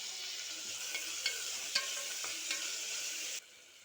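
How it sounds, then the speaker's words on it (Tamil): Tomato sautéing with onion, green chili and ginger in a pan, a steady soft sizzle with a few light stirring scrapes and taps, then the sound drops away near the end. "அந்த தக்காளியும் இதில் சேர்த்து வதக்கிக்கலாம்"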